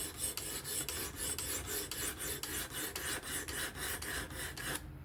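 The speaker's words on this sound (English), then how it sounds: "I don't think I've ever seen a SPYDERCO Kapara being sharpened before." An S30V steel Spyderco Kapara knife blade rasps across the stone of a fixed angle sharpener in about fifteen even, rhythmic strokes, close and clear, and stops just before the end.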